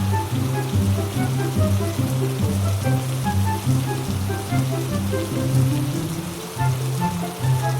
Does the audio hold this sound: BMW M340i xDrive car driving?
no